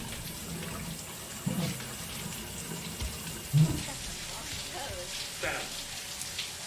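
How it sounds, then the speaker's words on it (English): Shower water runs steadily in the video game Death Stranding, a soft continuous patter with a few brief thumps and shifts layered over it. "Time to take a shower."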